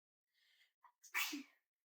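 A single human sneeze indoors, quiet and close, with a short breathy intake before the sharp burst and no other sound around it.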